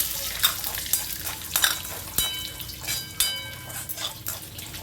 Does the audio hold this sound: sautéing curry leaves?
yes